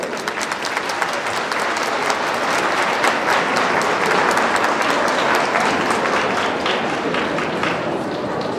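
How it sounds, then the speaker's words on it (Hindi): Audience applause at a legal literacy camp, a full, dense roar of many people clapping continuously for over eight seconds, steady in loudness with some sharper individual claps standing out near the front. "कृपया तालियों के साथ अभिवादन करें।"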